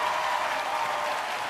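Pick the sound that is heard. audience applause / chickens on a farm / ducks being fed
audience applause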